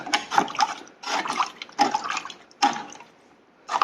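Hot, broken medieval axe head being dipped in water to cool it, heard as repeated splashy, hissing bursts of liquid noise in a workshop, each lasting about a second, close and fairly loud.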